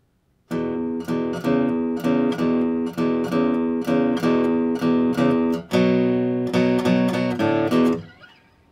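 A guitar picks a steady repeating pattern across two strings, notes ringing and overlapping in an even rhythm for several seconds, with no talking.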